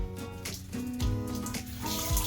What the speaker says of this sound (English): we're gonna be turning on the tap water